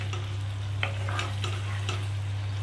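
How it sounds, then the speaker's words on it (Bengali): Onions stirred into chicken do pyaza in a pan: a steady frying sizzle over a low hum, broken by several distinct spoon scrapes and clacks at irregular intervals, with no voices. "দিয়ে একটু ভালো করে এটা মিশিয়ে নেব"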